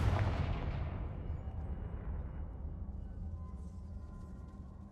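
A Confringo blasting spell explodes in Hogwarts Legacy: one loud, close boom that rumbles and slowly fades over several seconds, with no talk over it.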